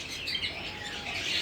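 Australian parrots chirping in an indoor home aviary, a steady high twittering of several birds, close and continuous.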